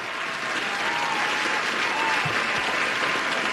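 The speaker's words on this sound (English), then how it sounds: "I think we need a little applause for that" A crowd applauds steadily, a dense, even wash of clapping that stays level for a few seconds without pause, fairly close and loud.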